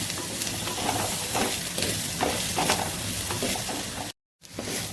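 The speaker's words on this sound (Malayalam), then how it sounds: "കുറച്ച് സമയം ഇങ്ങനെ വാടുവോളം ഇളക്കിക്കൊണ്ടിരിക്കാം." Onions, green chilies and curry leaves fry and are stirred for a Malabar-style chicken curry, with a close, steady sizzle and repeated scraping strokes that cut out briefly near the end.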